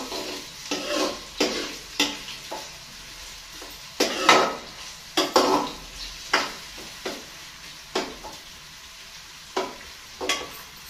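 Onions fry in hot oil in a pan, a steady close sizzle broken by repeated sharp scraping stirs that come roughly once a second, with no talking.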